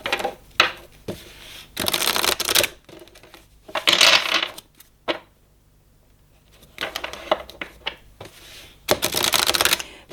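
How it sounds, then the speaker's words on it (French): Oracle cards of the ascended masters shuffled and drawn, producing loud close bursts of riffling and slapping card noise. Several dense bursts are broken by quiet pauses. "on va aller tirer une carte des maîtres ascensionnés"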